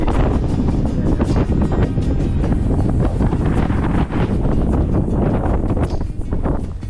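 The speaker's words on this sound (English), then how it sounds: "it's very windy" Strong, cold wind on a Scottish mountain summit, Geal Chàrn in the Monadh Liath, roars and buffets the microphone continuously, a loud rumbling gusty blast with no voices.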